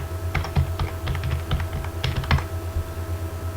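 Keys on a computer keyboard clatter in quick irregular bursts of close clicks, with brief pauses between runs.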